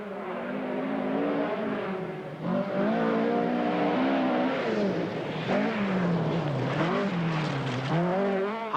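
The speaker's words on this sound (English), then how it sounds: "Blomqvist is powering on in the turbocharged Quattro" Turbocharged Audi Quattro rally car powering along a dry Scottish rally stage, its engine loud and close with rising and falling revs through gear changes and a brief lift, no voices.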